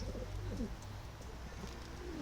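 Soft, low cooing from an Adana native pigeon murmurs continuously beneath a steady background hiss, with no one speaking.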